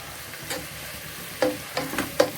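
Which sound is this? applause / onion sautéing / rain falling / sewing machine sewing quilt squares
onion sautéing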